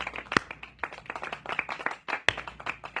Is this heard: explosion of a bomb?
no